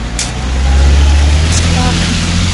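A car rolls past close by at a big market in Rostov, a loud, low engine rumble swelling and holding as it goes by.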